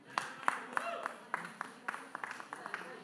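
Applause and clapping from an audience at a Nepali comedy and dohori singing event, a spread of uneven claps rising and falling over several seconds, mixed with some background voices.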